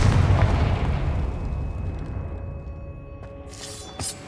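A Confringo fire spell explodes in Hogwarts Legacy with a loud, deep boom at onset, then a long rumbling decay that fades over several seconds. A brief crackling burst arrives near the end.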